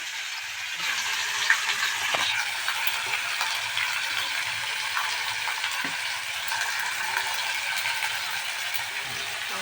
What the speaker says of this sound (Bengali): এখানে গাজর আলু আর পেঁয়াজ দিয়ে দিলাম এটা ভাজা হচ্ছে